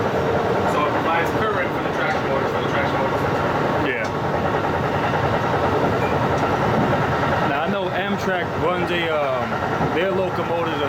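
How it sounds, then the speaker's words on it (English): A diesel electric locomotive hauls a Shore Line East passenger train with a steady loud engine and rail rumble throughout, while people talk over it nearby. "all our locomotives are diesel electric"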